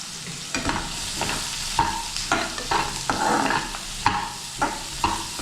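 Onion, garlic and green chillies sautéing in a pan for a brinjal thokku, with a steady close sizzle broken by repeated scraping stirs of the spoon.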